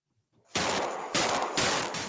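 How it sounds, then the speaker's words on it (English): Gunshots from a street shooting on a snowy street caught by surveillance camera, three loud sharp bursts in quick succession after a brief quiet start. "You can hear the shots being fired on surveillance video that shows teens running to escape the gunfire."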